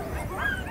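Sled dogs being rigged for a hunt at minus 36 degrees in Jameson Land give a quick, close whimpering yip over a noisy background, very short.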